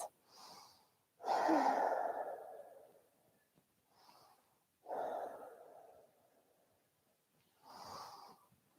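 Slow deep breaths during a yoga class, several long inhale-exhale cycles, close and fairly quiet, breathy and hollow, with short pauses between each breath.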